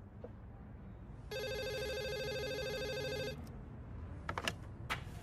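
A telephone rings indoors in an office, one steady electronic bell burst of about two seconds, clear against a quiet room, followed by faint handling clicks.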